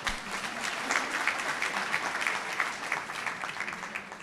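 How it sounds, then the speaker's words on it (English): Moderate applause from a medical summit audience as colleagues are introduced, a steady wash of many hands clapping, somewhat distant and quiet, lasting a few seconds without a break. "Wait for applause."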